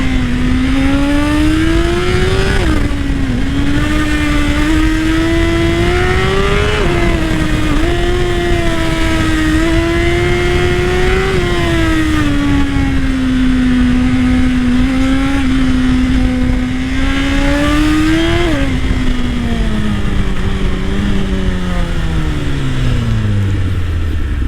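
Suzuki GSX-R 1000 sport motorcycle ridden on a calm downhill road, its engine note loud and continuous, rising and falling through repeated revs and gear changes before winding down near the end.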